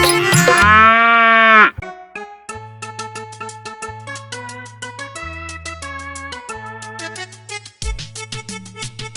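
A single cow-like moo opens, loud and close, then gives way to a bouncy Hindi children's nursery rhyme about a cow, with synth melody and steady bass notes.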